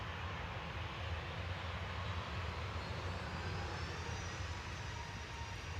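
A TUI aircraft passes at Manchester Airport, a steady, broad engine roar holding loud and even throughout with no voices.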